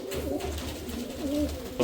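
Pigeons for sale at a bird market, including Punjabi, Malwai and Madrasi flying breeds, cooing close by in a low repeated throaty rhythm.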